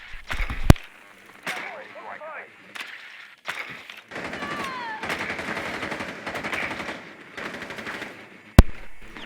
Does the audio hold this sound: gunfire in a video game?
yes